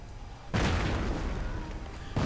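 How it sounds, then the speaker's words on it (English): Mortar rounds from the video game Company of Heroes land as a heavy, rumbling boom that rolls on for over a second, followed by the start of another blast. "Mortar rounds going down."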